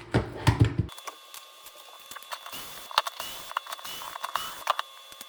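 Front skid plate being taken off a Traxxas Maxx RC car: a brief handling rustle, then quiet scattered plastic clicks, creaks and taps of parts being worked loose, close and faint.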